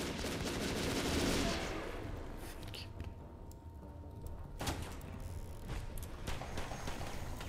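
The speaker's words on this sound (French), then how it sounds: "ça tire à côté" Gunfire in the action game West of Dead, a steady clatter of shots and impacts over a noisy game mix, with a person talking.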